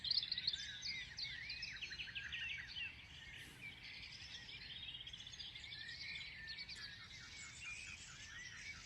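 Several birds sing and chirp outdoors, a quiet, continuous mix of overlapping trills and tweets at a moderate distance, with no voices.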